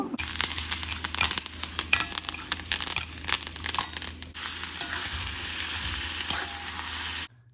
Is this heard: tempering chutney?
yes